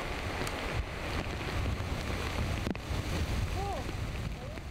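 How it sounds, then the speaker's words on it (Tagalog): Steady wind roars and buffets across the whole stretch, a low rumbling gust noise with outdoor hiss on top and no clear talk. "Sa aming pagbaba, sakto namang lumakas na ang hangin."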